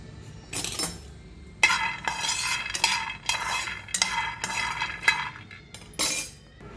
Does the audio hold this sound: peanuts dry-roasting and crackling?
yes